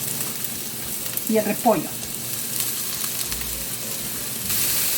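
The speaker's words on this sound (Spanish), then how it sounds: "En una cacerola vamos a poner un poquito de aceite para comenzar a sofreír los vegetales" Carrot and cabbage sautéing in hot oil in a pan for vegetable spring rolls, a steady soft sizzle throughout with a brief spoken phrase over it partway through.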